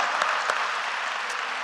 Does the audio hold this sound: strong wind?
no